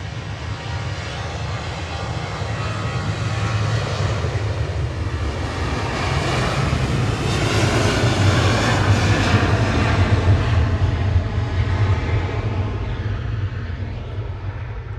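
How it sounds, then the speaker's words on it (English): An Airbus A380 passes overhead near Manchester Airport, a loud sustained jet roar with a deep low rumble that swells gently and then eases over the whole stretch. "we've got an A380, but it's flying over the top"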